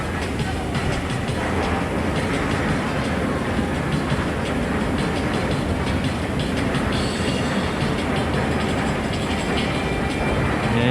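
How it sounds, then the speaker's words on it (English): A small theme park train at Alton Towers rolls past nearby, a steady dense rumble with rhythmic clickety-clack and mechanical rattling that holds at a constant loud level throughout. "We must have a little train coming around now."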